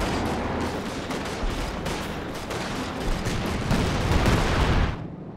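Tank guns firing in Company of Heroes 2 during a 1v1 match involving a Panzer IV, with dense, continuous rumbling shot bursts that build louder toward the end before cutting off abruptly.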